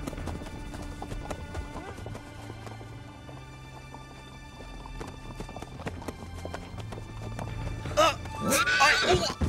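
Cartoon horses ridden across open country, with a steady clip-clop of hooves under faint background sound, ending in a loud, shrill neigh near the close.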